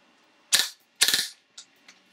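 Bursts from a 3D-printed, fully automatic open-bolt airsoft gas blowback rifle firing into cardboard: a single sharp shot, then a quick rattling burst of three or four, followed by two fainter pops, close and loud with no talking.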